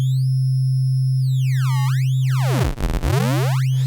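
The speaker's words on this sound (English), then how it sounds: "So we take a sine wave and we broke it," Bit-crushed sine wave synth patch in Native Instruments Massive, loud and steady, with a clean sustained low tone under gliding, aliased high sweeps that dive and rise like a retro Atari-style chirp.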